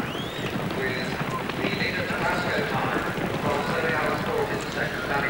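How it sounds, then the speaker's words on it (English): Racehorses gallop through a steeplechase in a 1983 National Hunt handicap chase, with a riderless horse among them, their hoofbeats drumming steadily under a race commentator's voice. "And the riderless horse there is Master Smudge."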